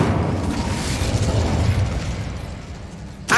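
A roaring whoosh of flame from the Incendio fire spell in the Hogwarts Legacy game, a loud sustained burst that fades over about three seconds, followed by a sharp crack at the very end.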